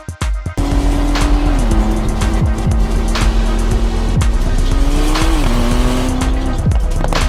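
A Porsche 911 sports car roars at high revs with a sustained engine note that climbs and shifts, overlaid with sharp tire squeals and skidding, loud and close.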